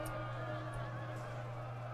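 A horse neighs in a Total War: Rome II battle, a sustained whinny over a steady low battle drone and clip-clop, with no talk.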